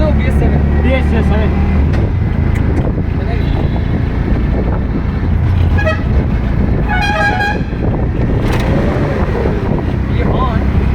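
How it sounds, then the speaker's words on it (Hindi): An auto rickshaw horn honks in several short, sharp toots amid loud traffic noise and wind buffeting on the microphone, with people talking nearby. "ये हॉर्न"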